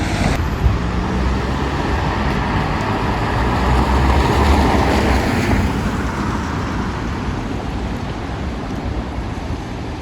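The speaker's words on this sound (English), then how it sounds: "Apologies for the noise, there's a lot of traffic here as you can see." Heavy street traffic in Derry's Bogside rumbles continuously, a loud, dense wash of passing cars and engine noise that swells midway and never lets up, with no talking over it.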